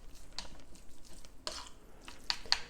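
Seasoned raw beef yukhoe being tossed and mixed with a spoon, giving soft wet squishing and light clicks of the spoon against the bowl, quiet and close, with a few sharper taps near the end.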